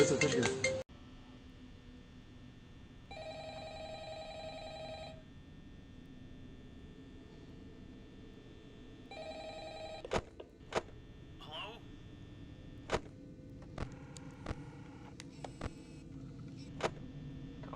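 A telephone rings in a Five Nights at Freddy's-style horror game: two bursts of steady electronic ringing over a low background hum, followed by scattered clicks and short clinks.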